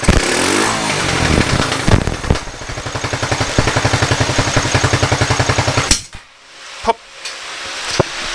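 A 15-year-old Honda ATV engine runs just after startup, loud and close with a rapid popping exhaust rhythm, then cuts out into near quiet broken by a few sharp clicks and knocks.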